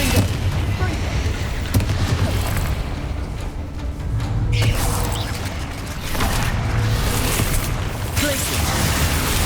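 A Confringo fire spell from Hogwarts Legacy bursts amid constant battle noise, with booming, crackling impacts layered over a dense rumbling background and scattered sharp hits across the duel.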